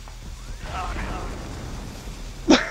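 A firecracker or TNT blast goes off in the video game Army Men: Sarge's Heroes 2, one short loud burst near the end after a stretch of low rumbling game noise.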